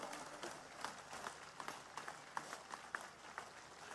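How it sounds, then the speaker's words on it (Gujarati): A large crowd at a Thakor community rally claps, distant and fairly faint, with scattered sharper hand claps standing out in an uneven rhythm from the broad wash of applause. "બે હાથ ઊંચા રાખીને જોરદાર તાળીઓ પાડી લો બધા"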